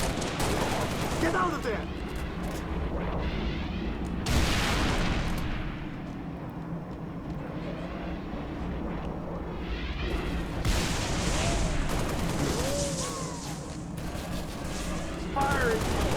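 Sustained gunfire in a Halo Reach mod's UNSC grunt campaign mission against Brutes, heavy bursts and explosions rolling in waves under frequent radio-style voices talking.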